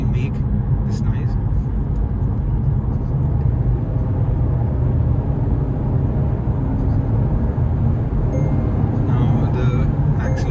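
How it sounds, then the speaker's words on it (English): Tire road noise fills the cabin of a Volvo S60 on the move, a steady low rumbling roar running continuously beneath someone talking. "there is a bit of a road noise, and that is, I believe, because of the tires"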